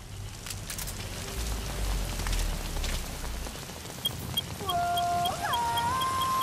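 Steady rain hiss with soft patter fills the scene in the video game Metal Gear Solid V: The Phantom Pain, joined later by faint tonal calls and a wavering synthetic tone over the continuous downpour.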